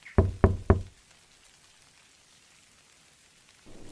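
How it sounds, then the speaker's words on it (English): Three firm knocks in quick succession on a door, then quiet, with a faint patter of rain creeping in at the end. "A quiet knock."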